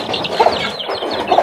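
A hen protecting her chicks clucks close by in quick, low, agitated bursts, with a couple of sharper notes standing out.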